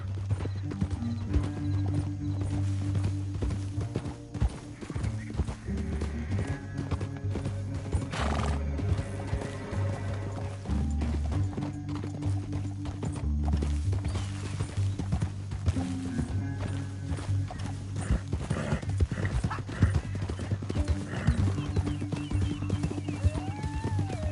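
Horses clip-clop at a gallop with repeated whinnies, set against a steady music score and game effects that continue throughout, in the video game Red Dead Redemption 2.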